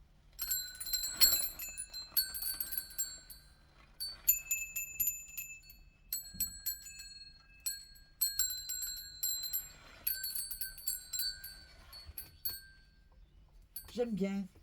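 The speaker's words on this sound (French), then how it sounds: "On va mettre les petites cloches." Small bells ring in repeated bright, shimmering clusters with pauses between them, quiet and close, with a low thud partway through and a voice speaking briefly at the end.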